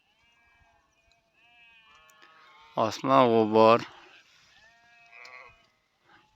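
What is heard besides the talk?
sheep bleating in a flock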